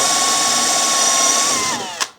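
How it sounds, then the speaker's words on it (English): A drill spins a plastic plumbing fitting for spin welding, giving a loud, steady high whine for nearly two seconds. The pitch then sags as the motor is loaded and it stops with a short sharp clunk. "the spin weld that I've got is somewhat janky"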